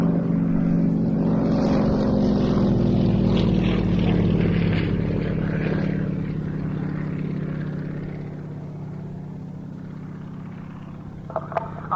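A Yak propeller aircraft in black and yellow checkerboard livery drones overhead at IWM Duxford, its engine tone loud and sustained before slowly fading as it moves away, with a couple of sharp clicks at the end.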